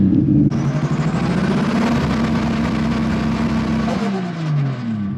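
A Nissan 350Z engine idles loudly up close, then revs and runs with a rough, uneven drone, settling back down toward the end.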